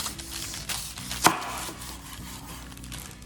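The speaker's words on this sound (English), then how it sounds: "You cut a slice and then you peel exactly like you would do for a salami." A knife cuts down through a firm chocolate salami on a board, producing one sharp, close chop in the middle and soft scraping around it.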